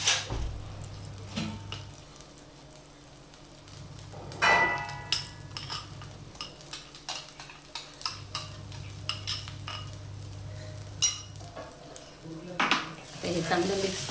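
A spoon stirs mango pulp into semolina sheera in a pan, with repeated scraping and clinking against the metal and a soft sizzle underneath, close and moderately quiet.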